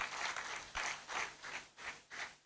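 Audience applause at a faculty of agriculture lecture and awards presentation, a faint, steady patter of many hands with gentle rhythmic swells, heard alone without talk.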